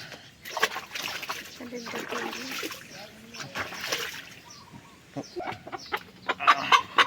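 A pure black Australorp chicken of Italian line clucks in short bursts amid splashing and sloshing water, with people talking close by throughout.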